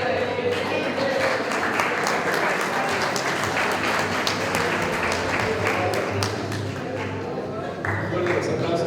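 Steady, loud applause fills a graduation ceremony for a motorcycle and vehicle mechanics class, continuous dense clapping from a large crowd with no break.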